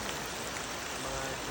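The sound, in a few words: heavy rain falling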